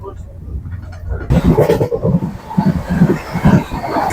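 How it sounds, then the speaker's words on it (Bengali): Howrah–Puri Shatabdi Express train running at about 124 km/h in heavy monsoon rain, a steady loud rumble with rhythmic wheel clatter heard from inside the carriage, with voices talking over it. "ট্রেনের স্পিডটা জাস্ট দেখুন, 124"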